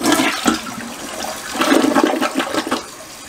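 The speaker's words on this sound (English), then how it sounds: "Flush that toilet." A toilet in a renovated mobile home bathroom flushes with a loud, close rush of swirling water that surges, dips, then rises again before draining and settling, with no talk over it.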